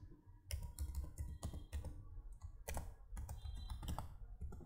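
Typing on a computer keyboard, a quick irregular run of close, crisp key clicks with short pauses between bursts, quiet and alone.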